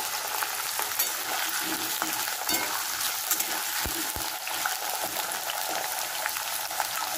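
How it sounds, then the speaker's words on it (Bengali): Potatoes dropped into oil with tempered spices for a pumpkin-leaf chorchori sizzle and fry vigorously in a pan, a continuous close crackle with a couple of brief knocks from stirring, no talk. "ফোড়ন ভাজা হয়ে গেছে, এবার আমি আলুটা দিয়ে দিলাম"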